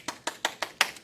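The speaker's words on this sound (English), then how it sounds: "Give yourself a round of applause." Five or six separate hand claps land in an even, brisk rhythm, close and fairly soft, with no other sound around them.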